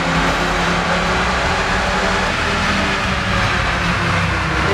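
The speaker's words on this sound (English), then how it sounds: "we ran the Mustang on the dyno a couple more times" A 1990 Ford Mustang convertible runs hard on a dyno in a closed room, its engine giving a loud, steady, broadband roar that holds without a break.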